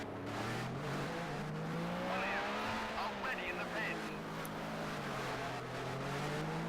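A 1988 Formula 1 car races around Bathurst in a video game, its engine holding a loud, steady buzzing drone that rises and falls in pitch as it speeds through corners, with faint tire noise.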